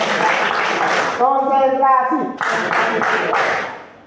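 Students clapping hands in unison during a classroom concentration exercise, bursts of claps before and after a short stretch of a single voice speaking.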